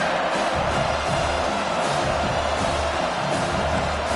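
A packed stadium crowd at a college football game roars in a dense, steady wall of noise, loud and continuous throughout with no distinct announcer voice standing out.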